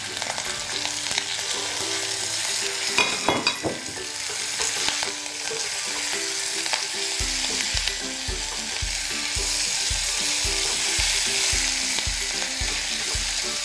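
Garlic and curry leaves sizzle and fry in a pan for a stuffed bitter gourd and dried sprat tempered dish, a bright steady hiss broken by rhythmic stirring scrapes and clatter.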